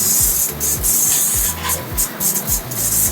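Cooking spray is hissed onto a baking pan in a café kitchen in repeated short bursts over rhythmic rubbing and clattering, with no voices.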